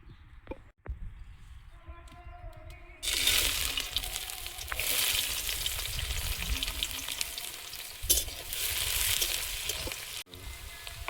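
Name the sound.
ginger, garlic, onion, green chili, cashews frying in hot oil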